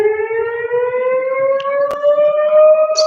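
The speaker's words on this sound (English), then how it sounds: "It's 12 o'clock. The sirens are going off." A civil defense siren sounding at noon wails steadily, its tone slowly rising, loud and sustained throughout with a brief sharp knock partway through.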